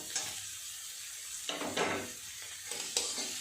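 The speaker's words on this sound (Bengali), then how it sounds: "এগুলো একটু নেড়ে চেড়ে ভেজে নিয়েছি দিয়ে দেবো কেটে রাখা টমেটো" Fried pangas fish with chopped tomatoes stirred in a pan over a low gas flame: a few scraping strokes of a spatula over a faint sizzle, close and quiet.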